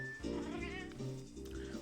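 A cat meows a couple of times close by, each call a clear, drawn-out tonal cry, with soft low background noise throughout.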